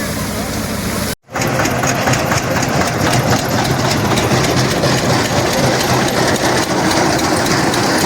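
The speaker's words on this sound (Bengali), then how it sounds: "যে মেশিনে খড়গুলোকে কেটে ঠিক গোখাদ্য হিসাবে সঞ্চয় করা হয়" A straw-cutting machine chopping threshed paddy straw into cattle fodder: a loud, continuous mechanical drone with rapid rhythmic pulsing, close by, broken only by a brief cut near the start.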